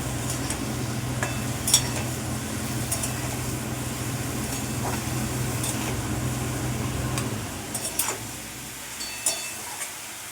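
Mushrooms frying and stirred in a pan in a home kitchen, a continuous soft sizzle with a low hum beneath and occasional sharp clicks of a utensil against the pan, close and without talk.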